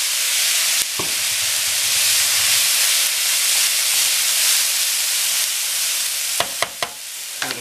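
Rice for bagoong fried rice with shrimp fry and onions sizzles loudly in a hot pan, a dense continuous hiss with a few sharp clanks of a utensil scraping and tossing near the end.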